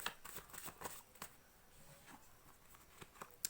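Tarot cards drawn and handled produce soft, quick flicks and papery slides in a loose irregular rhythm, close by and faint, with no voice over them.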